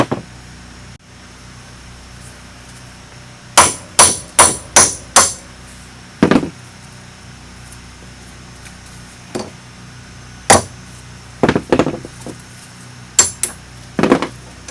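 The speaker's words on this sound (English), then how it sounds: "Then take your hammer, start whacking away" Metallic hammer strikes knocking wheel studs out of a 2002 Subaru WRX front hub ring out in quick bursts of four or five blows, then pauses, with a few more scattered hits and another rapid cluster near the end.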